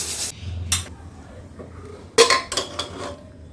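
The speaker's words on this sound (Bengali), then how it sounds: "ঢাকনা খুলে দিলাম এই আমার সবজি চিকেন তৈরি হয়ে গেছে" A metal pressure cooker lid is removed from a pot of vegetable chicken, with sharp clinks and clanks of metal parts in short bursts, then a quieter gap before a cluster of louder rattling knocks.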